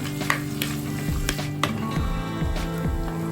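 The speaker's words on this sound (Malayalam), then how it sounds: "ഇനി ഇതിലേക്ക് പച്ചമുളകും കറിവേപ്പിലയും ചേർത്ത് കൊടുത്ത് പച്ചമണം മാറുന്ന വരെ ഒന്ന് വഴറ്റിയെടുക്കാം" Green chillies and curry leaves sauté in hot oil for a fish curry, giving a close, steady sizzle with crisp crackles and light scraping stirs.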